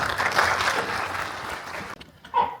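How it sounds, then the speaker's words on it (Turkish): Brief applause from an audience at a meeting on earthquake risk reduction, strongest at the start and fading over about two seconds, followed by a short burst of sound near the end. "Alkışlarınızla."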